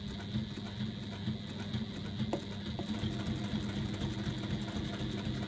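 Sewing machine running steadily as it stitches through a thick four-fold faux leather strap, a continuous close mechanical hum and whir with faint clicks, no voices.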